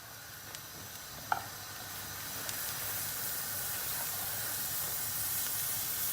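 A knob of butter melts and sizzles at the edge of a pan of egg-soaked bread, a soft steady hiss with a faint clink early on and the frying gradually growing.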